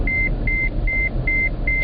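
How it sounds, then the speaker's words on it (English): A taxi beeper goes off inside a car, sounding five evenly spaced, sharp electronic beeps at a fast, regular pace over a low engine rumble. "the first time this beeper goes off during my shift, it annoys me"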